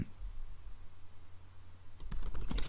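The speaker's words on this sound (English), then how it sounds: "we'll type something a bit more" A short flurry of computer keyboard typing arrives near the end after a stretch of quiet room hum, the keystrokes close and crisp in quick succession.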